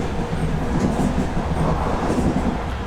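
A BB26000 electric locomotive hauls freight in Train Simulator, giving a steady loud rolling rumble of wagons with faint rhythmic wheel clatter and no talk.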